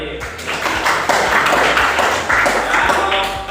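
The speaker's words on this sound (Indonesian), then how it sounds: "Nah, tepuk tangan buat Arif." Classmates clap for a student in a school classroom, a dense run of fairly loud hand claps with a steady, tapping rhythm lasting several seconds.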